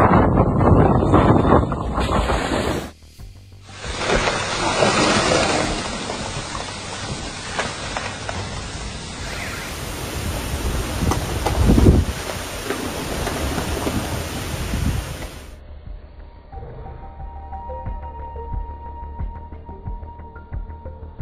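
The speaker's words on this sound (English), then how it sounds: "A storm ravaged the Balkans." A violent storm in the Balkans, with heavy rain, gusting wind buffeting the microphone and rolling thunder, loud and continuous for the whole stretch, with abrupt shifts in intensity and a deep thunder crack near the middle.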